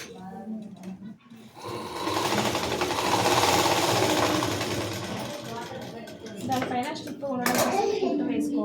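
A sewing machine stitches the front part of a blouse at a tailoring class, a close whirring run of rapid needle strokes that rises and holds, with clinks near the end and a voice speaking over it.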